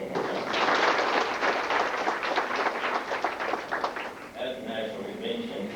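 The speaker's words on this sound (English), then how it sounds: "Give them a round of applause one more time." An audience at a Dustin FFA gathering applauds members who attended a conference, with dense clapping for about four seconds before it thins out and a voice begins speaking.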